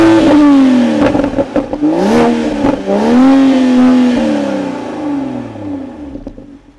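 A 2021 Toyota GR Supra's 3.0-liter twin-scroll turbo engine revs loudly up and down close by, rising in pitch, then settles and fades into a steady drone.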